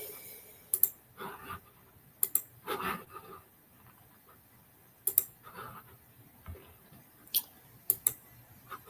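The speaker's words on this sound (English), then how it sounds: "Typewriter sound." A typewriter clacks in short irregular bursts of sharp mechanical keystrikes, with bright metallic pings scattered between them, close and fairly quiet against a silent background.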